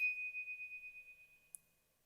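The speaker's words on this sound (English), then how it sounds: "what we have here is the sound of two metal tubes scraping together that I recorded" Two metal tubes scraping together give off a high, steady metallic ring that slowly fades, with a short sharp tick near the end, heard alone and fairly quiet.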